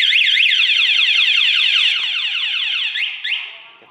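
A Kawasaki Ninja 250 motorcycle's anti-theft alarm sounds a loud, rapid warbling siren sweep that repeats steadily for a few seconds, then breaks into a couple of chirps and fades out.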